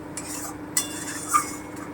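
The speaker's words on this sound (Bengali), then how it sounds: "মাঝে মধ্যে নেড়ে দিতে হবে যতক্ষণ না মশলা থেকে তেল ছাড়ছে ততক্ষণ মশলাটা কষাতে হবে" Spices with turmeric and Kashmiri chili cook down for capsicum paneer, a spoon scraping and clinking in short strokes against the pan over a faint hiss.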